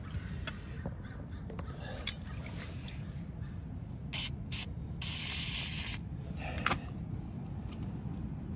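WD-40 lubricant sprayed from a can while repairing the water heater and floor heater on a 2001 Winnebago Adventurer 35U motorhome: two short hissing bursts, then a longer one-second spray, close and clear over a steady low background hum.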